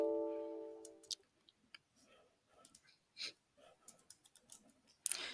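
Someone types a Docker command on a computer keyboard: faint, irregular bursts of quiet keystroke clicks after a brief tone at the start, ending on a slightly louder click.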